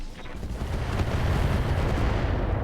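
Missile fire in the mech combat game RogueTech rumbles as a dense, continuous barrage of low booms and crackling impacts, loud and sustained without pause.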